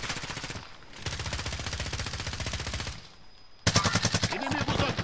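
Rapid automatic gunfire from Call of Duty: Modern Warfare rattles in two sustained bursts separated by a short lull, the second burst louder and closer.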